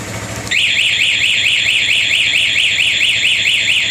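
Anti-theft alarm fitted to an MT03 bursts on after a brief low engine-like hum, then holds a loud, steady, rapidly warbling electronic siren close by with no voices.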